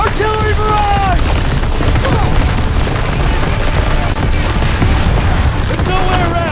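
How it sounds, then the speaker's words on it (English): Artillery barrage in the Call of Duty: WWII game, a loud, continuous rumble of blasts and battle noise, with shouted voices and brief whistling tones at the start and end. "Artillery barrage!"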